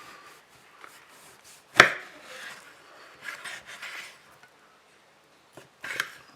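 A knife slices through a slab of thick, nitrate-free dry-cured bacon with slow rasping drags, one sharp thud as the blade meets the board, then quieter sawing strokes with pauses between.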